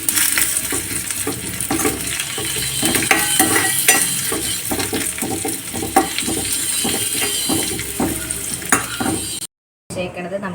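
Curry leaves and dried chillies sizzle in hot coconut oil for a Kerala-style rasam tempering, giving a steady loud crackling fry with spattering pops and light utensil clatter, then a brief cut near the end.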